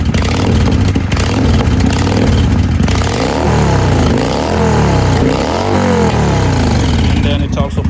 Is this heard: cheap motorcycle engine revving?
yes